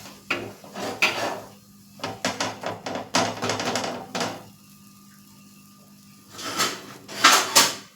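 Bursts of scraping and clinking as a spoon stirs a thick coconut modak mixture in a metal pan off the heat, alternating with short quiet pauses.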